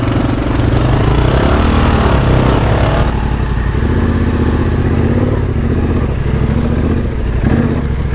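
A Yamaha Tenere 700 motorcycle engine runs loud and close while riding an off-road trail, a continuous throbbing drone with shifts in revs and heavy wind rumble throughout.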